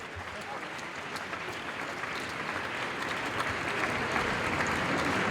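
A crowd gathered for outdoor street prayers applauds the police, dense clapping that holds steady and grows slightly louder over several seconds, with a faint murmur of voices underneath.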